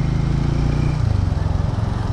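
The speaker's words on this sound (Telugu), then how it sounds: "క్రేజీ ఉంది దీని ఎగ్జాస్ట్ సౌండ్ అయితే" A Hero Mavrick 440 motorcycle's exhaust burbles close by in a short burst of throttle, its low thump dropping and turning into a pulsing idle, with no talk over it.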